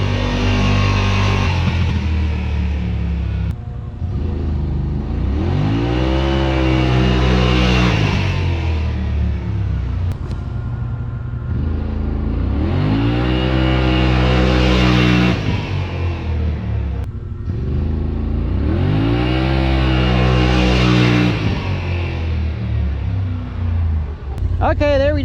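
Yamaha Wolverine RMAX 1000 side-by-side accelerating hard on performance runs, its engine rising in pitch through repeated gear shifts, loud and close, with a voice speaking over it.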